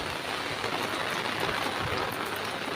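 Heavy rain that has come on suddenly pours down in a constant, hissing downpour, moderately quiet and unbroken, with no voices over it.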